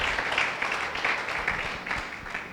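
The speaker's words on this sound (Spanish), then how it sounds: "Aplauda al Señor." A church congregation claps together at a Spanish-language Sunday morning service, making dense, continuous applause that swells and then slowly fades. No voice rises above it.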